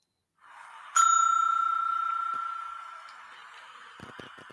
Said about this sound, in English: I'm gonna give myself a bell on this one.